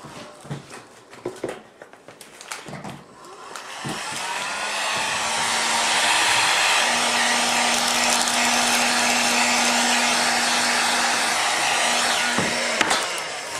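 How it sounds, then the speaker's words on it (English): A heat gun blows steadily while shaping a plastic screen protector for a metal detector, rising from a few handling clicks and knocks into a loud, continuous whooshing roar with a faint hum underneath. "See, with a heat gun you can get on it fast enough to, whoops."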